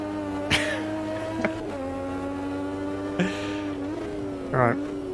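A turbocharged race car in Automobilista 2 holds a steady engine tone that shifts pitch between gears, with brief fluttering turbo chatters and bursts at a few gear changes.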